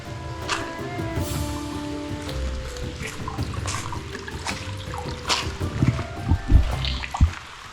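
Water drips inside a dark cave, scattered irregular drops and trickles echoing at moderate distance, with a few louder, closer drips near the end.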